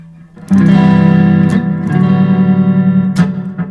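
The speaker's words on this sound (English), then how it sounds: "Here's like a plate reverb." A sustained electric guitar chord through a Sonicake Matribox 2 plate reverb rings out with a lush, washy tail, followed by a few more strums that blur together in the ambience.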